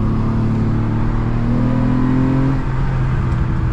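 A 2002 Ford Mondeo ST220 with a 3.0 V6 pulls hard, its engine droning loud and close as the pitch climbs steadily, with road and wind roar underneath and no talking.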